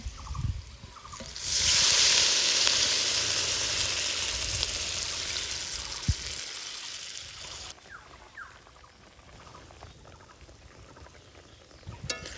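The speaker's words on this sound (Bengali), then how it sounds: "কষতে কষতে সেদ্ধ হয়ে গেলে এবার দিয়ে দিব হচ্ছে ঝোলের জন্য জল" Water pours into a pan of taro curry being cooked down for gravy, starting as a loud rushing hiss that fades into a softer bubbling sizzle, with a few clinks near the end and no voices.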